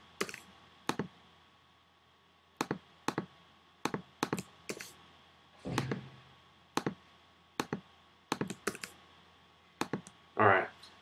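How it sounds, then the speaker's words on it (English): Computer mouse clicks and keyboard presses, including a Command V paste, while connection requests are sent on LinkedIn; sharp, scattered clicks at close range, alone in a quiet room, with a slightly longer clatter near the end. "All I'm doing is clicking the connect button, add a note, pressing Command V,"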